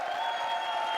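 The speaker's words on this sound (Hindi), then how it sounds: "जोरदार तालियां" Dense audience applause on a comedy TV show, with continuous clapping and a crowd murmur, steady and fairly loud throughout the brief moment.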